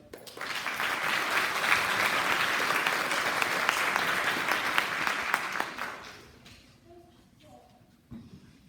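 Sustained applause from a middle school spring sports assembly audience, dense and steady for several seconds before fading out, with voices underneath and a speaker talking as it dies away.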